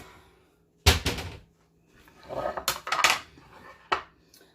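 Close clattering of dishes and cutlery as food is plated: a few sharp clinks and scrapes with short pauses between.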